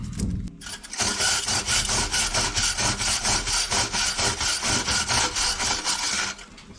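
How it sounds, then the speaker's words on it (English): A rough, rhythmic scraping and whirring as a drill spins a brush inside a woodstove chimney stovepipe, loud and close, running steadily for several seconds. "I'll get the drill back on it."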